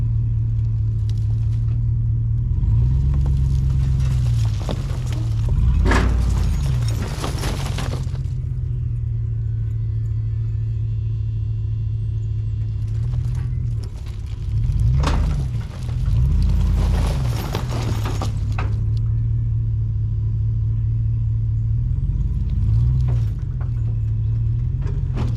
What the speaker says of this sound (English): pull forward and see if it'll lock the wheels up.